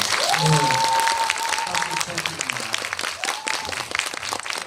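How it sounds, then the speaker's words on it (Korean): Applause from an audience at a book event, honoring a publishing house's representative, rising into a dense, steady clatter of many hands and continuing for several seconds, with a voice briefly heard over it. "저희 이 책을 그래도 만들어주신 저희 유선사 정유선 대표님께도 박수 한번"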